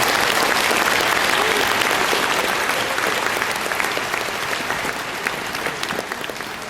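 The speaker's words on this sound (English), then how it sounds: "Please join me in a round of applause for these North Carolina scholars." A graduation audience applauds North Carolina scholars, with loud, dense, sustained clapping from a large crowd that eases off only slightly over several seconds.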